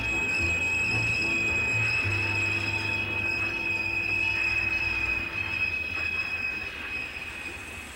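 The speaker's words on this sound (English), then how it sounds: "Many had never heard the hoot of a steam whistle or the screech of brakes." A live steam train running with its brakes screeching, heard as a sustained high metallic squeal over a low rumble of rolling wheels, loud and continuous, easing slightly near the end.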